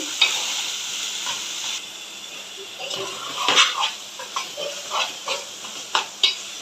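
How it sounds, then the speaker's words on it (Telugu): Masala frying in a pan for a chicken gravy curry, a soft steady sizzle with a spoon stirring and scraping in short bursts, close by and moderately loud. "ఈ మసాలా పచ్చి పోయిందా ఫ్రై చేసుకోవాలండి"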